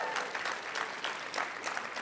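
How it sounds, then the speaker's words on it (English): Audience applause for artist Sam Parker at a civic awards ceremony, a full, dense wash of many people clapping, steady and moderately loud across the whole moment. "let's give one more round of applause for Sam Parker"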